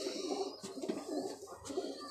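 Pigeons coo softly in a low, rounded rhythm of repeated throaty calls, fairly faint and at a little distance, with no talk over them.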